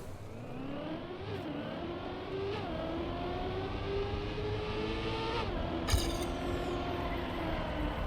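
Virtual car drifting through a turn in the racing game Trackmania, a steady engine whine rising and falling in pitch with revs over the whole stretch, plus a brief sharp scrape near the end.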